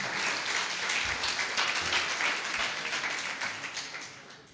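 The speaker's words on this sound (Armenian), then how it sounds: "եկեք ծափարենք իրանց" Applause from a church congregation at a worship gathering, steady dense clapping that holds for the whole stretch and fades slightly toward the end, with no voice over it.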